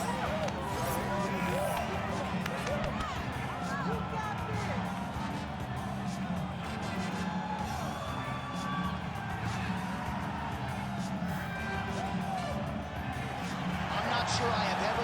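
A packed arena crowd at the Bell Centre in Montreal roars during a UFC career-mode bout in a video game, a constant dense wall of cheering and crowd noise under commentary voices.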